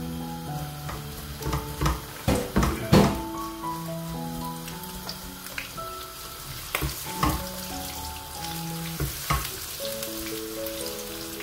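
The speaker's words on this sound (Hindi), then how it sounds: "सबसे पहले हम इसमें प्याज डालेंगे" Onions sizzle in hot oil, a steady close frying crackle with bursts of louder spattering and stirring clatter early on, while a faint melodic tone runs beneath throughout.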